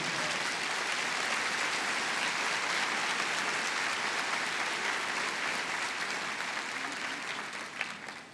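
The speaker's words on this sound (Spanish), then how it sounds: "Dale un aplauso a Jesús." A church congregation applauds in a sustained, even wash of clapping that holds steady throughout and fades slightly near the end.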